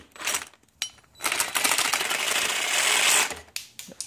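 A DeWalt battery power tool cuts through plastic in a rapid buzzing chatter, with short bursts and then one longer sustained cut, heard up close.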